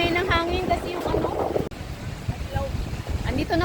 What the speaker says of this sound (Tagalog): Napakalakas ng hangin nga lang guys.